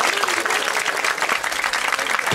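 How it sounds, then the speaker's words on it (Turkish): Audience at a youth-branch talent show in a theatre claps loudly and steadily, a dense continuous burst of applause up close. "Evet, kocaman bir alkış."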